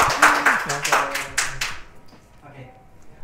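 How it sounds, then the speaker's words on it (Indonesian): A student audience at an Indonesian campus talk claps in a short round of individual hand claps for about two seconds, mixed with a speaker's voice, then it fades into quieter talk. "tepuk tangan teman-teman"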